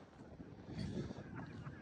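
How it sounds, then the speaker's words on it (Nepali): Cold wind gusting across open parkland at Bradgate Park in Leicester, a steady buffeting rumble on the microphone that swells after the first second and stays loud, with no talk over it. "एकदम चिसो हावा"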